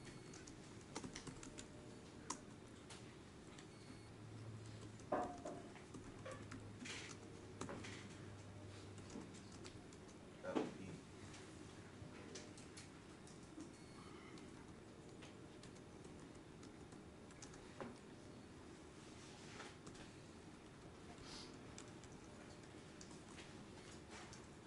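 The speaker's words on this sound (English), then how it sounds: "Typing." Quiet typing on a computer keyboard, heard as faint, steady clicking taps continuing throughout over a low room hum, with no talking.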